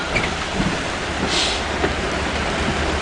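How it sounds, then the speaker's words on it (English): Steady heavy rain from a night storm roars as a dense, continuous hiss with a low rumbling undertone, no voices, unbroken throughout. "It looks like it's just going to rain for a long time now."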